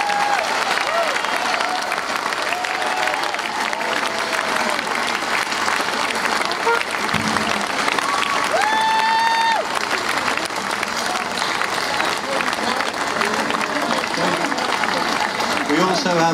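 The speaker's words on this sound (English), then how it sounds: "big round of applause for those guys" A festival crowd at Cropredy applauds the event crew, steady dense clapping and some cheering filling the whole stretch, with a brief whistle rising above it.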